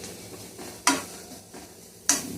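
Poha being stir-fried in a pan, soft stirring with two sharper scrape-and-clink accents of the spoon against the pan, faint sizzle beneath, no talking.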